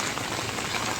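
Heavy rain pours down at the Hemayetpur bus stand on a flooded road, a dense, steady hiss of drops hitting surfaces with no pause and no voices.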